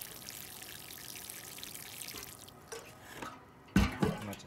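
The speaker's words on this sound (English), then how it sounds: "And so what I'm gonna do is get my watering can. Just give it some water." Water from a watering can pours onto soil in a seed tray, a faint steady trickle giving way to a louder, close splashing burst near the end, with no voices.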